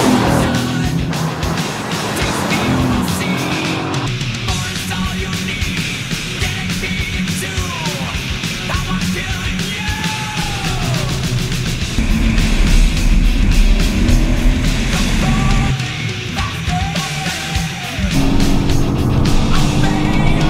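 A Mercedes-AMG GT's V8 engine is heard while driving, a loud deep growl that climbs and falls through the revs with brief shifts and an intense surge in the second half.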